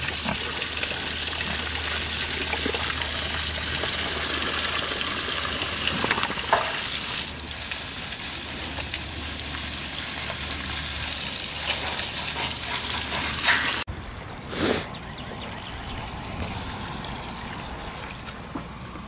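Water running and splashing steadily as animal drinkers for quail and pigs are filled, a dense continuous hiss that stops abruptly near the end before a brief splash.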